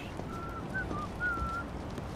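A character whistles a short tune in the video game Yakuza 8 (Like a Dragon: Infinite Wealth): a few clear, thin whistled notes in quick succession over faint background ambience.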